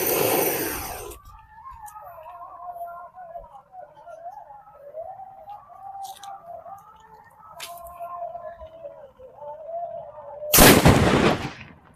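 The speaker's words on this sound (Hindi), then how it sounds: "भाई वो वाला पटाखा देखा भाई काफी ज्यादा साउंड किया यार" Top Tiger Diwali firecracker going off outdoors, with a sharp loud blast at the start and another strong burst near the end, separated by a long wavering whistle-like tone and a few faint pops.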